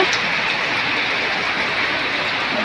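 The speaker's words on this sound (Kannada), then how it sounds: "ಈ ಮಳೆ ಫುಲ್ ಮಳೆ ಸ್ಟಾರ್ಟ್ ಆಗಿಬಿಟ್ಟಿದೆ ಈಗ" Dense, roaring rainfall pours down steadily, a loud unbroken wash of noise from start to finish.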